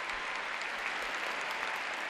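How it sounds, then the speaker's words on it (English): Sustained applause from the O2 Arena crowd in Prague after a women's free skating performance at the World Figure Skating Championships, a steady dense wash of clapping heard from within a large arena with no break. "the best reaction from the O2 Arena crowd for the performance of Ida Karhunen."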